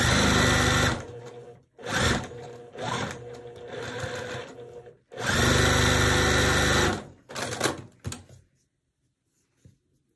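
A sewing machine stitching quilt block pieces for a barn star sampler quilt runs in loud close bursts of whirring, stopping and restarting several times before falling quiet.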